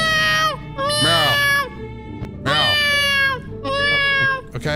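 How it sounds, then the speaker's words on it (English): A cat in a Roblox game meows three times, each a loud, drawn-out, whiny call with short pauses between them. "it's just meowing"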